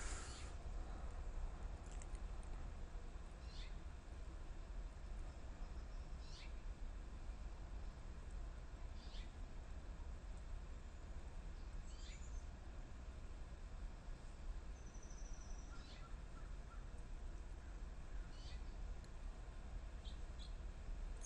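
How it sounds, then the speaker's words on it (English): Faint bird chirps repeat at intervals over a steady background hiss, small distant calls rising now and then with no other activity. "the bird saying, yep, yep, is a bird chirping away"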